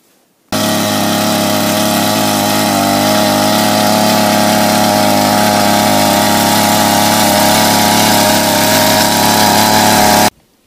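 Two-stroke motor hoe engine fitted with a new Dellorto carburettor, running steadily at a loud, even idle for about ten seconds, starting and cutting abruptly, close up with no talk.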